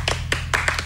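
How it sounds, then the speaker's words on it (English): Concertgoers at a live punk rock show clap along in a few sharp, separate hand claps, close and crisp over a steady low electrical hum, with no talking. "Can we have another little clapping bit?"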